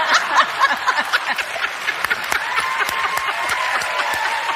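Live audience at a late-night comedy news show claps and laughs, a dense patter of applause with scattered chuckles, moderately loud and alone.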